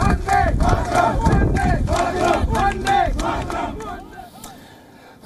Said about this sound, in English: members of the Indian community held protests outside the Pakistani consulate in Toronto